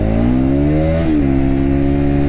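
A motorcycle engine accelerating while being ridden, a loud steady drone whose rising harmonics climb in pitch, dip briefly at a gear change, then hold steady close to the rider with no talking.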